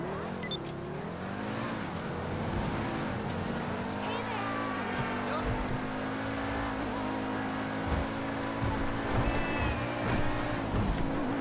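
Powerful new DLC car from GTA 5 Online, its engine droning steadily with a harmonic, race-car-like tone and shifting pitch, running continuously and fairly close, with occasional voices over it.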